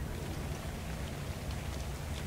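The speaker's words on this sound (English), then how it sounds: "Oh, it's raining?" Steady rainfall in the survival game ARK: Survival Evolved, a dense continuous hiss of drops with no voices over it.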